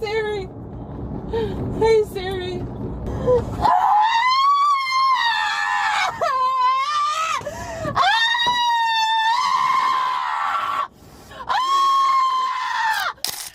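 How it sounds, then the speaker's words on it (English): A woman screams frantically in a car during a fake-cop scam encounter, with long, loud, pitched shrieks and wails that rise and fall in repeated bursts across the clip after a brief stretch of talk. "continues to scream like a maniac"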